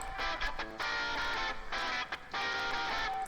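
A processed guitar stem with EQ, saturation, compression and reverb, playing bursts of bright, dense strummed chords separated by short gaps, full and close, with no voices.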